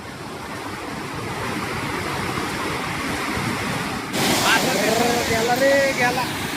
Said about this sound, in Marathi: मोठं डॅम आहे आणि त्याच्यामधनं पाणी पडतंय